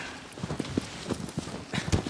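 Horse hooves clip-clopping in the video game Shadow of the Colossus, a quick run of soft, fairly faint hoof thuds in an uneven trotting rhythm over light background noise.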